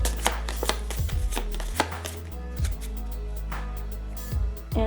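Cards for the Assault on Doomrock board game are shuffled by hand at a table, a series of close, crisp riffling and tapping sounds in irregular bursts with no talking.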